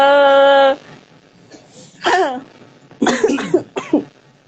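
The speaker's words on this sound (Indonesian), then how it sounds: "Oh, ini pada batuk nih ceritanya" Several rough coughs from a person on a call, coming in short bursts after a steady electronic tone at the start, close and fairly loud.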